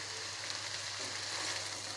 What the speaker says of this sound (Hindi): अब हम इसमें 2 टमाटर का पेस्ट जो है वो हम इसमें डाल देंगे